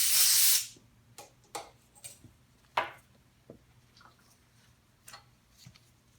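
A short, loud hiss of contact cleaner sprayed onto a Suzuki RM125 motorcycle fork part, followed by scattered soft ticks and taps of handling nearby.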